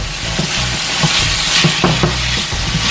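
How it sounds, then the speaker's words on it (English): Ackee and saltfish being stirred in a frying pan: a close, continuous sizzle with a few soft scraping strokes of the spoon through the mix, and no talking. "Stir that up."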